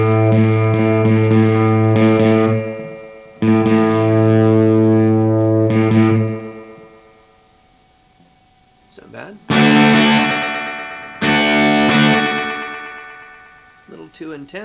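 Electric guitar played through a delay pedal as the feedback setting is changed. Sustained chords ring out and repeat in fading echoes, then later brighter strummed chords bloom with trailing repeats, and a voice speaks between the phrases.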